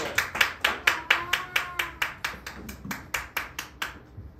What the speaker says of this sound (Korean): 맞았으면 우와. 박수.